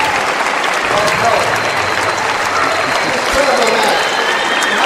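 A crowd at a table tennis final at the US Open applauds, a dense, steady wash of clapping with voices mixed in that holds loud for several seconds.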